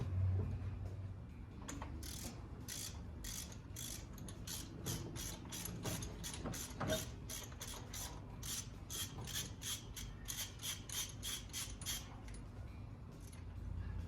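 Ratchet wrench clicking in steady rapid bursts while pulling spark plugs from a 1964 Dodge Dart GT 273 V8 convertible, close and clear, with metallic rubbing and scraping between strokes and no talk.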